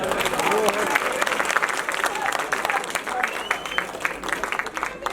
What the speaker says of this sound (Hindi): तालियों से बताएं।